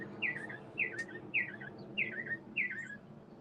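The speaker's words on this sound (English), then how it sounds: "that bird's going crazy." A bird chirps outdoors in a steady series of five bright, quick descending chirps spaced evenly about half a second apart, moderately close over a faint low background hum.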